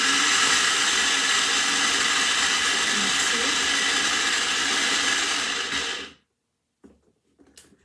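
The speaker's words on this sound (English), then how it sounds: "when it's turned on, the blade goes round and up and down, so nothing gets caught underneath" A Pampered Chef food chopper with a spinning blade that rises and falls whirs loudly and steadily for about six seconds, then cuts off sharply, followed by faint handling noise and a brief spoken phrase.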